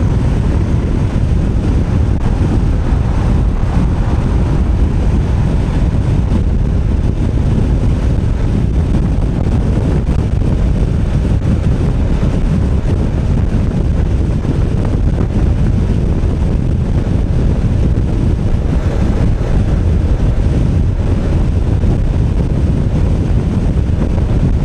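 Steady, loud wind roar buffets a touring screen on a Honda NC750X motorcycle at riding speed, a continuous rushing noise with no letup and no speech.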